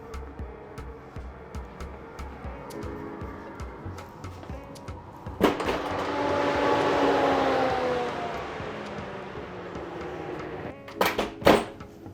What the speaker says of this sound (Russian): Теперь ставлю в духовку на 20-25 минут